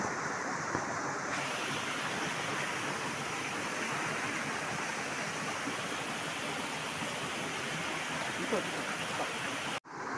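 Creek water flowing steadily around a farm lot, a constant broad rushing wash heard close and unbroken throughout.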